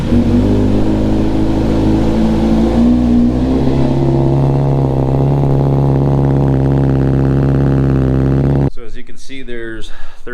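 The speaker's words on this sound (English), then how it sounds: "You wanna run the bike for, I'm gonna say 30 seconds, maybe a minute tops." A Kawasaki Z900RS motorcycle engine idles steadily and loud to warm the oil, a continuous droning hum that shifts pitch slightly partway through before cutting to a voice speaking.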